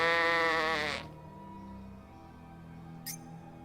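Super Sheep in a video game lets out a loud, wavering bleat for about a second, then falls away to quiet background with a short sharp click near the end.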